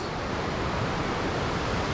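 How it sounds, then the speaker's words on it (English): Kravica Falls in Bosnia pours as a steady, loud broadband rush of falling water, constant and close with no voices. "Here we are at Kravica Falls,"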